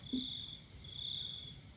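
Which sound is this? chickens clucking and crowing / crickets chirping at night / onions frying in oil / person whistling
crickets chirping at night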